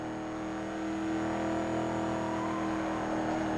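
A sports car engine in Need for Speed: Most Wanted hums with a steady, rising tonal whine, building slightly in loudness as it revs, with no talking over it.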